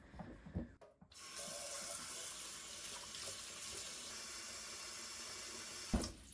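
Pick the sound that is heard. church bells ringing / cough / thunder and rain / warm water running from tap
warm water running from tap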